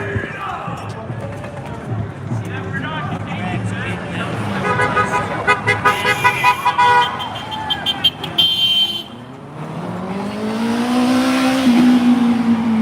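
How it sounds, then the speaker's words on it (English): Infiniti cars rev and rumble past at a street rally amid crowd noise, with horn toots, whooping voices and a loud engine swelling near the end. "those Infinities sound like garbage. They sound like helicopters or airplanes or something."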